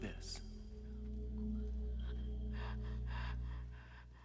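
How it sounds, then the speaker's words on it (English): A woman's faint, heavy, labored breathing comes in a few rasping breaths over a low background hum, in a scene from the film Full Metal Jacket (1987). "you can hear her breathing in the background"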